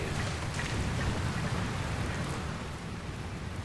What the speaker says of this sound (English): Lassie, looks like there's another storm rolling in.